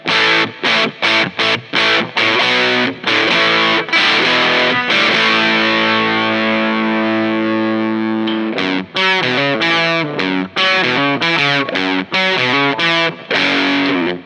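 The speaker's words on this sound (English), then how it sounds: "it's even more like a distortion than a fuzz, and it's considerably louder too" Loud electric guitar through a distortion pedal on its modern setting, playing choppy chords and riffs, with a sustained ringing chord in the middle before the staccato strumming returns.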